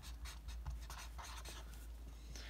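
Hand-writing the word "waxing" with a pen or marker, a series of short scratchy strokes with brief pauses between letters, close and quiet over a low steady hum.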